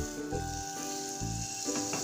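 A cube of butter melting and sizzling in a hot pressure cooker, a close steady crackling fizz with a faint tonal hum and a few soft knocks, no voices.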